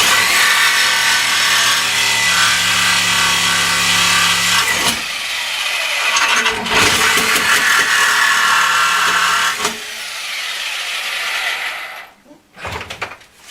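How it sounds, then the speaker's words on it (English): A saw blade cuts through the sides of a steel C-frame for a bench-mounted shop press with a loud, continuous grinding rasp, broken by brief pauses and ending in a few scattered scrapes. "All I'm doing here is cutting the sides of the C so that it'll bend back up"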